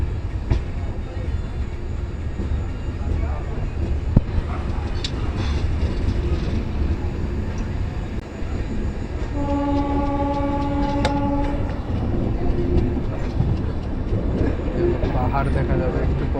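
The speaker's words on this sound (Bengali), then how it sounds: "প্রয়াগরাজ স্টেশন থেকে ট্রেন ছেড়ে দিয়েছে।" The Shipra Express passenger train running on the tracks, a constant loud rumble and rattle heard from on board, with a sustained horn blast partway through.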